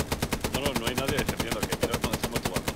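Rapid automatic gunfire in the World War II shooter Hell Let Loose, a fast regular train of sharp bursts repeating steadily, with some voice chatter underneath.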